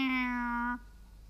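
A single drawn-out meow, close and clear, voiced by a person imitating a cat, then quiet.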